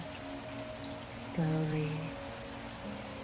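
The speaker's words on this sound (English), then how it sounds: "The rain keeps falling." Steady rain falling on a quiet street at night, a soft continuous hiss throughout with a calm voice narrating over it.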